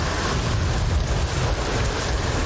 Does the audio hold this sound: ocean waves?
yes